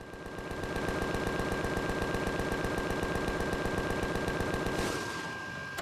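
Sustained rapid-fire weapon shooting in the sci-fi survival game Empyrion, a steady mechanical rattle of evenly spaced shots for about five seconds before cutting off, with no voices.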